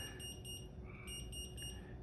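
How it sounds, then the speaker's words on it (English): Omnipod insulin pod sounding a series of short, high electronic beeps while insulin is slowly pushed in, faint and close with steady low background hum. "You just push it slowly and you'll hear it beep twice"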